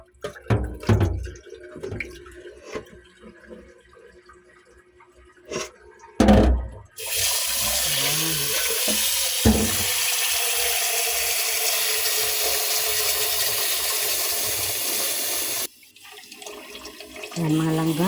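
Uncooked glutinous rice is rinsed in a pot under a running tap, with clattering handling and water sloshing at first, then a long steady rush of faucet water filling the pot before it stops, and brief splashing at the end.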